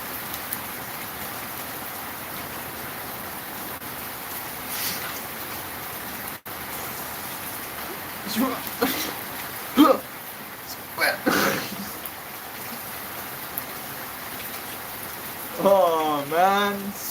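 Heavy rain falls in a steady, dense hiss throughout, with a few short vocal sounds, a sneeze-like burst and brief talk late on rising above it.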